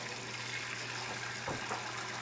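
Cold water gushes over freshly boiled eggs in a pot, a steady low splashing pour that runs quietly and continuously, with no voices.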